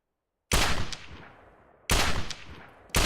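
Three loud, sharp gunshots from the video game Project Reality ring out alone at spaced intervals, each followed by a long decaying echo tail.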